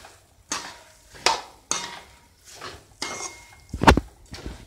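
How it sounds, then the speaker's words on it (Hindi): A spoon stirring puffed rice into melted sugar syrup in a pan for murmure laddu, producing a series of close scraping strokes and metallic clinks against the pan in separate bursts, with no talking. "इसमें मुरमुरे डाल दीजिए और अच्छे से मिक्स कर दीजिए"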